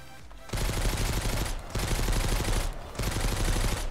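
Gunfire in the survival game Mist Survival: three loud, close bursts of rapid automatic shots, each lasting about a second, separated by brief pauses, with no talking.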